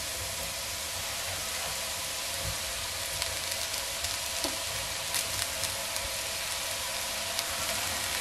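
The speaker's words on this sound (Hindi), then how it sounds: "अब हम इसमें चावल डालेंगे।" Cooked rice goes into a hot, sizzling pan for chicken fried rice, giving a steady, close frying hiss with a few faint clicks and no voices.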